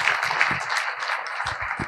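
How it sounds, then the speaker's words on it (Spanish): An audience at a medical association assembly applauds an editor, a steady crowd of many clapping hands sustained throughout, moderately loud with a few louder individual claps near the end. "yo quiero darle un aplauso de verdad"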